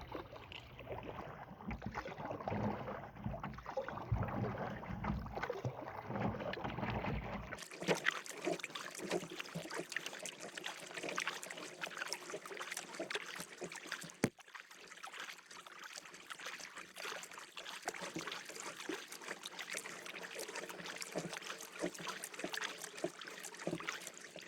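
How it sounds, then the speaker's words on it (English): A canoe being paddled on the French River, with steady water swishes and trickles from the strokes continuing throughout, close and moderately loud. The sound changes tone partway through. "Sure is ideal paddling conditions today."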